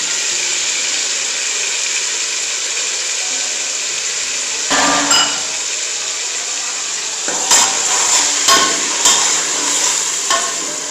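Ginger garlic paste and tomatoes frying in a pan after onions for a daal mash dish: a continuous hissing sizzle, then scraping stirs and several sharp spoon-on-pan knocks toward the end, with no voices.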